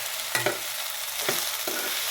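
Chopped mustard greens fry in a pan and are stirred, giving a brief hiss of sizzling with a few distinct scraping strokes of the spatula, close up and without voices.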